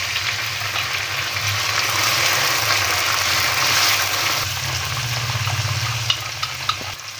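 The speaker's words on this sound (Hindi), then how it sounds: "लहसुन अदरक की भुनाई हो गई है।" Garlic-ginger paste frying in a pan with browned onions, a loud, steady close-up sizzle with faint stirring scrapes and a couple of sharp pops near the end, no voices.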